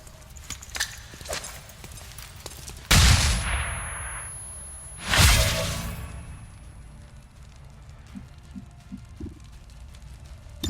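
A flashbang grenade goes off in XCOM 2 with a sharp loud burst, then a second gunfire-like blast follows about two seconds later. Both are broad and ringing, with a few faint clicks afterward.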